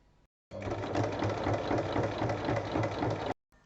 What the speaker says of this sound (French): il faut piquer sur la ligne